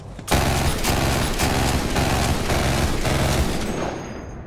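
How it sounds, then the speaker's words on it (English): Liuda sniper rifle in Borderlands 3 firing at glitch-boosted speed, a dense unbroken stream of rapid shots in regular bursts lasting about three seconds, loud and close, with no voices. "This glitch allows the Liuda to shoot like this."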